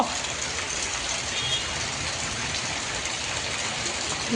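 Steady rain falls on a rainy morning, a constant even hiss of moderate loudness that holds unchanged from start to finish.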